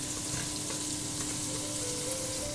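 Pork schnitzel fries in oil in a pan covered with a lid, giving a steady, even crackling sizzle throughout with no voices over it.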